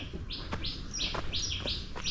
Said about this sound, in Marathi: पाखरांचा आवाज येतो आहे बघा